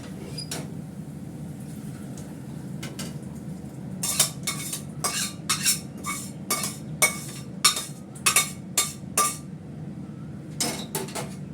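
Pots and metal utensils clink and clatter on a gas stove while dal is being cooked, faint at first and then growing into a series of sharp, irregular knocks and scrapes close by, with no speech.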